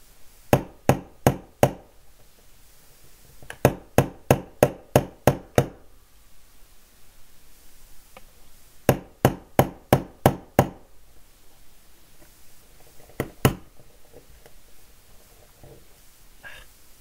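Hammer blows drive a part into a Transformers Optimus Prime leader-class toy during a fix, sounding as sharp wooden-toned knocks in quick bursts of four to seven strikes, separated by pauses, with a final pair of hits, close and loud.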